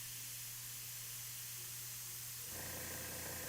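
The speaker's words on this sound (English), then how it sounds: "This is chocolate brown. This is a very nice color, Airbrush." An airbrush sprays chocolate brown paint onto a Star Wars Legion miniature, a steady close hiss of air that grows louder and fuller in the final second.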